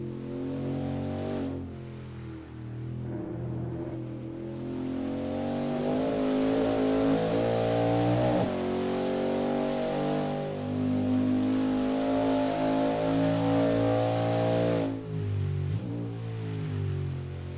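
A race car engine from a Le Mans sim race, WSC60 class, through the Porsche curves: a loud, continuous drone that rises and falls in pitch with revs and gear changes, with a brief dip near the middle.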